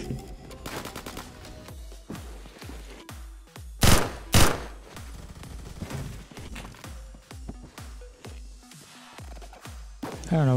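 Gunfire in the Roblox shooter Phantom Forces rings out as a steady run of sharp automatic shots, with a couple of louder blasts midway and a voice talking faintly underneath.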